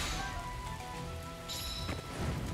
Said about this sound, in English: Yeah, it's raining, so.